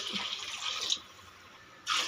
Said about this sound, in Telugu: మూడు నీళ్ళు వేస్తాను